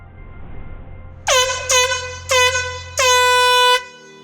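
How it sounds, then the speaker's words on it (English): Four loud air horn blasts signalling an emergency evacuation on a job site, three short honks followed by a longer final blast, close and piercing, with a low background hum and no talking. "you will hear a series of air horn blasts"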